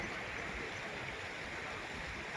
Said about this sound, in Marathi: वॉटरफॉल तिथे आणि हा बघू शकता तुम्ही नजारा